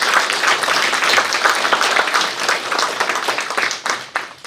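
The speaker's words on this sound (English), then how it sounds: "So let's give all the parents in this room a big round of applause." A room of parents and guests at a Hmong community scholarship event claps, a fairly full round of applause with audible individual hand claps that gradually thins and breaks up toward the end.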